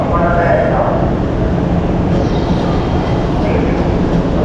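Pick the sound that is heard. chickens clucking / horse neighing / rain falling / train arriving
train arriving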